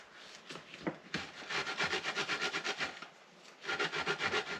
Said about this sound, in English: So I've grated the bread, grated the bread by hand.